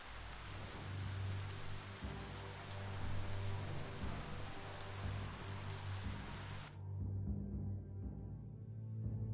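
Rain falls in the video game Biomutant, a dense, steady hiss of drops with low rumbling underneath; partway through the bright hiss suddenly cuts out, leaving a quieter low ambient bed.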